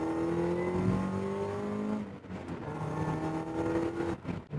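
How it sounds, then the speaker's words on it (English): A supercharged Mazda MX-5 NB1 engine revs hard and quickly, its pitch climbing and falling through several sharp, loud rises heard close up from inside the car, with no talking. "God, it revs quickly."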